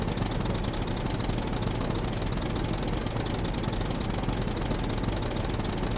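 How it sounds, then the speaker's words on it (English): A tractor engine in the zombie survival game SCUM runs steadily and loudly at close range, a continuous rough mechanical drone with a knocking texture and no pauses or talk over it. "I'm going to stop the tractor just over here"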